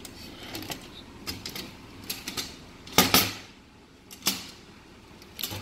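A flathead screwdriver tightening a screw on a spotlight frame gives a series of small, close metallic clicks and scrapes in uneven bursts, with one sharper cluster near the middle, no talking.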